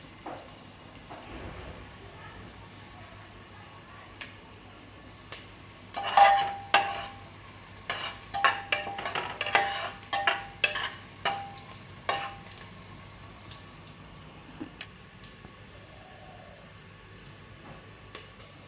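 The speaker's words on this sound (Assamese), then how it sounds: "এতিয়া আদা নহৰু কেঁচা গোন্ধ যোৱালৈকে ভাজি ল'ম।" Ginger and garlic with onion, green chillies and cumin stir-fry in a pan, a low continuous sizzle with a busy cluster of spatula scrapes and taps in the middle, quieter before and after.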